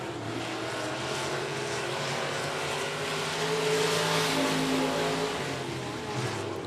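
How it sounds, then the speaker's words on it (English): Outlaw Street Stock cars roar around the 105 Speedway dirt oval in East Texas during a heat race, a steady loud engine drone that swells as the pack passes close, then eases slightly. "As we're now 2 laps to go here in your Outlaw Street Stock Heat Race."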